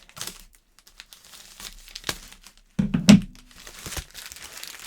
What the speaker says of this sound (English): so we're going to take the scissors to the top of this one,